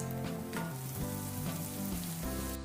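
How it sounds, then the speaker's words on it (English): Rice flour akki roti frying in oil in a pan over medium heat, a continuous close sizzle with a low steady hum, unbroken and without talk. "And now we'll cook the roti on both sides until it gets a light golden color"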